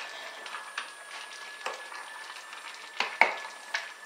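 A tomato and onion stew simmers in a pan with a soft, low sizzle, broken by a few light stirring scrapes and clinks.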